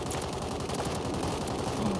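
Rapid snake shot gunfire in the Call of Duty video game forms a dense, continuous burst of shots that stays loud and steady over about two seconds, with no talk.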